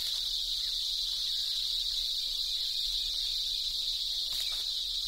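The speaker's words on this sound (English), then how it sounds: "The females single out appropriate mates by pinpointing their unique song from this monotonous din." Cicadas in an Indian tiger jungle keep up a dense, unbroken high-pitched buzzing drone, loud and steady throughout, with faint insect ticks beneath and no voices.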